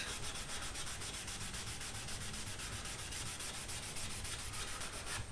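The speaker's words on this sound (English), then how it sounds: "Now I'm just going to wipe away any of my excess." Cloth wiping excess wood stain off a board for a shelving color sample, a close, steady rhythmic rubbing that keeps an even level for about five seconds with no talking.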